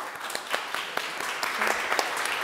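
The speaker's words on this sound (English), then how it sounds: "please give them a big round of applause" A conference audience claps and applauds steadily, a dense patter of many hands that grows slightly louder toward the end.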